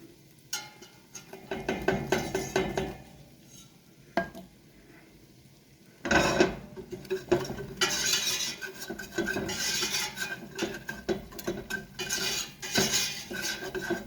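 A thin paste is whisked in a pan for chicken enchiladas, with quick rapid metallic scraping and clinking in bursts, close by, with brief pauses between strokes and no talk.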